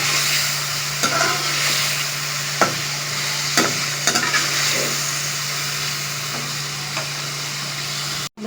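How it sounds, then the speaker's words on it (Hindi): Potatoes and chicken for biryani stirred in a hot pot, a steady sizzle of frying under occasional scraping and clinking of the spoon against the pot. "अब आलूओं को मिक्स करें इसमें"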